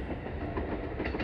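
A train passes close by at night near a level crossing, with a dense, steady rumble and rattling of wheels, loud and continuous for the whole moment.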